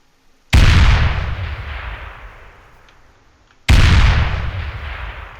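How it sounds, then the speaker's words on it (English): Two loud, close explosions in a video game, each a sudden booming blast with a long rumbling decay, about three seconds apart. "The sweet sound of kaboom!"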